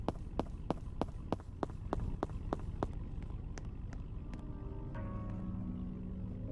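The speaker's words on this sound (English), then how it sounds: "Yeah, I really don't like how my footsteps sounds." In a car video game, regular footsteps tap at an even pace on a hard floor for about three seconds, then slow into a few scattered steps over a low ambient hum.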